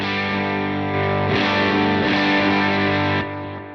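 An overdriven electric guitar through a Line 6 HX Stomp into an amp sustains a thick, saturated chord, swelling louder midway and then dropping back slightly as it rings out.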